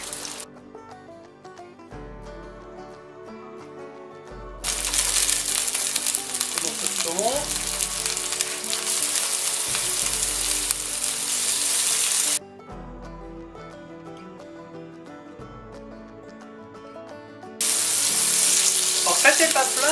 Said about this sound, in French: là j'enchaîne avec les Saint-Jacques.